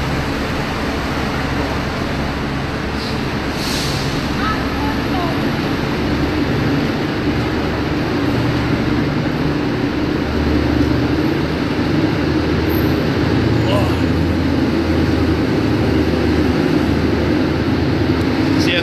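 Low, steady rumble of a train passing outside, a continuous broadband roar holding at even loudness for the whole stretch, with no talk over it.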